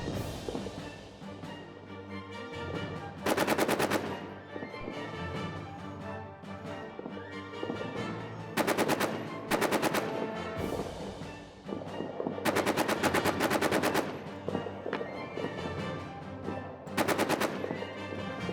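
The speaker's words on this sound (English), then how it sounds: "nobody seems to be under the direct fire of the machine gun, which, I don't know, I feel like I'm firing right at them" Machine gun fire in a trench warfare video game, with repeated loud sustained bursts separated by short pauses, set against a steady rumbling background of distant battle.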